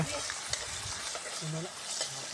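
Fish fries in a pan with a dense, steady hiss and crackle, fairly loud and close; a brief voice-like tone briefly rises over the sizzle.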